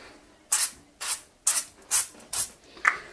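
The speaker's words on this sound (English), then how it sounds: "So what I do first is oil spray it so quickly" Six quick bursts of cooking oil spray hiss over potatoes in an even rhythm, about half a second apart, close and clear.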